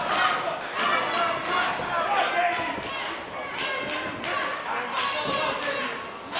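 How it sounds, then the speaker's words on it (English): Ring of Honor wrestling crowd in an arena chanting a fan favorite's name, a loud rhythmic roar of many voices that swells in repeated pulses throughout. "You hear the crowd chanting his name."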